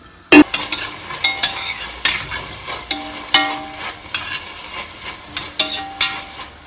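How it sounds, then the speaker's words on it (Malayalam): Chopped onions fry in oil in a pan with a steady sizzle, punctuated by a series of sharp stirring scrapes and clacks from a utensil, close and fairly loud. "ഇനി ഇട്ട് കൊടുക്കുന്നത് നമ്മുടെ സവോള അരിഞ്ഞതാണ്"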